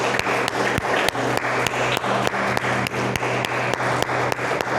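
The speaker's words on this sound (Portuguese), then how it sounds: "Vamos aplaudir o Senhor" A church congregation applauds, many hands clapping together in a loud, steady, rhythmic unison beat with sharp regular claps over a broad crowd wash.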